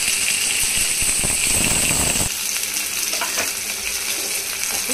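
Thinly sliced onions and green chillies sizzle hard in hot oil in a kadai, a loud crackling fry with a burst of stirring noise midway before the sizzle settles into a steady hiss.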